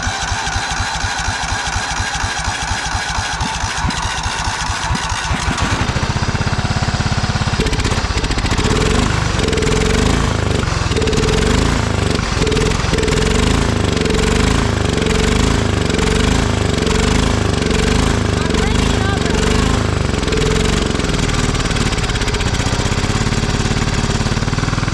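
A Cub Cadet riding mower, abandoned and sitting for years, cranks with a rapid stuttering rhythm for several seconds, then catches and runs loudly and roughly with a steady chugging drone close by until the end.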